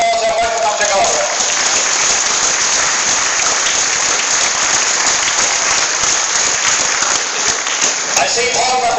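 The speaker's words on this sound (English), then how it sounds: "I want to give him a big round of applause and welcome him to Galway." A large crowd at a sports ground claps in a long, sustained round of applause, loud and dense throughout, with no voices standing out.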